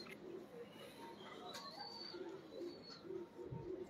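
Sharmely pigeons coo softly in short, repeated low throaty phrases, heard faintly and fairly close with light background noise.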